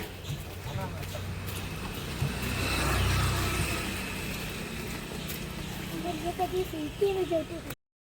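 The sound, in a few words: auto-rickshaw engine running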